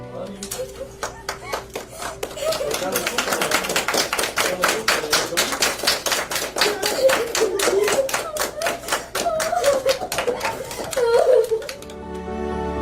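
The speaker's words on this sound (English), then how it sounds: "all the students in the class began to applaud" A class of students claps steadily, the applause swelling then fading near the end, with music or voices faintly underneath.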